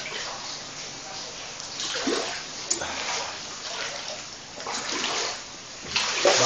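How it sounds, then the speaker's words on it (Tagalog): Floodwater during monsoon flooding swishes and splashes in repeated surges, close and moderately loud, with the waves of sloshing rising and falling every second or so. "Ito yung pinakagrabing baha na naranasan ko sa buong buhay ko."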